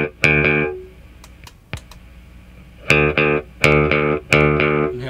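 Guitar notes and chords run through a Binson Echorec tape echo on head 3, each attack followed by a clearly separated delayed repeat, loud and close with no voices.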